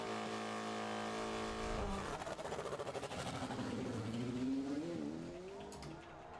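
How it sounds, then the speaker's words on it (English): A McLaren 720S GT3X race car at Goodwood idles with a steady tone, then launches hard, the engine note climbing through revs in a loud, close, rising howl before easing off. "this machine, the McLaren 720S GT3X, with a time of 45 dead"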